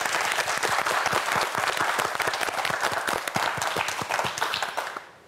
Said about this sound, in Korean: 여러분, 파이널 라운드를 앞두고 있는 세 학생에게 박수 한번 보내주시기 바랍니다.